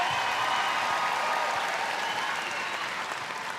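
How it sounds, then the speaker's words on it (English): A crowd at a Netball World Cup 2019 match between Northern Ireland and New Zealand cheers and applauds steadily after a Northern Ireland goal, a broad sustained roar that eases off slightly toward the end. "that gets a special cheer from the crowd"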